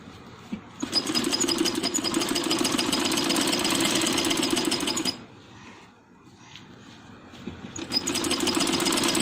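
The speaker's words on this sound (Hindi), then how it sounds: "यहाँ तक जहाँ तक हमने कट लगाया था वहाँ तक इसको हम स्टिच करेंगे" Sewing machine running steadily as it stitches a handmade baby boy's dress, a close, even mechanical hum with fine rapid ticking that stops briefly midway, then starts up again for a final stretch.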